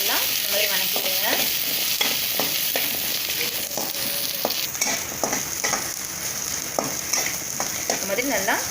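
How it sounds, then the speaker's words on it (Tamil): Onion and garlic fry in hot oil for an egg curry, a constant close sizzle with repeated clicks and scrapes of a spoon stirring the pan, and no voices. "எண்ணெய் ஊற்றிட்டு இந்த மாதிரி நம்ம வெங்காயம், பூண்டு சேர்த்திக்கலாம்"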